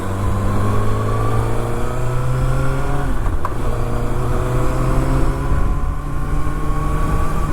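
A Kawasaki ZX-6R motorcycle with its stock exhaust accelerates hard through gears, giving a loud, continuous engine drone. The pitch climbs steadily, drops briefly at a shift and then climbs again.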